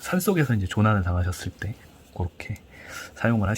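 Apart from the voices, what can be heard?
None of the usual background noises is heard.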